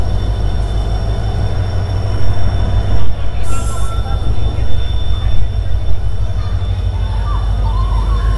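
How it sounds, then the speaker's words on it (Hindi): The Dhauli Express hauled by a WDG 4G diesel locomotive rolls into a railway station platform with a loud, steady low rumble, a grinding rail roar and brief high wheel squeals; a voice can be heard underneath the train noise. "तो ये रहा धौली का डीजल रेल इंजन।"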